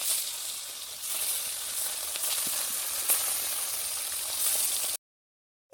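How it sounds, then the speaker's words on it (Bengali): Pieces of katla fish fry in hot oil in a kadai, giving a steady, close, bright sizzle that holds for about five seconds before cutting off abruptly into silence. "কড়াইতে তেল গরম হয়ে গেছে। একটা একটা করে মাছ দিয়ে"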